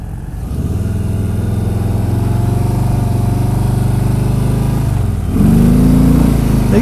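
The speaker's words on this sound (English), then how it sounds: "they got a pretty nice rumble to it, I gotta say, even out of the just with the factory exhaust" A 2018 Harley-Davidson Street Bob with the 107 engine and factory exhaust rumbles steadily and close, a deep continuous drone that swells slightly near the end, with no talk over it.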